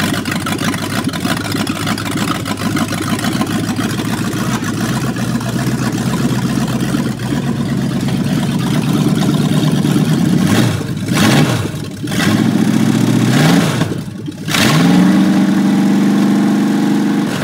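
A 1965 Ford Mustang engine runs with no transmission fitted, a steady loud idle that rises in several sharp revs near the end before settling back to a rough idle.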